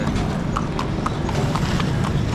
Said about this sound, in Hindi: घोड़ा